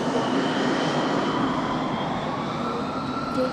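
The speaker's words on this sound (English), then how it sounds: "We did just have a Delta takeoff too" A Delta Airlines A319 jet takes off, its engines a steady, loud, broad roar with a faint whine running through the whole stretch.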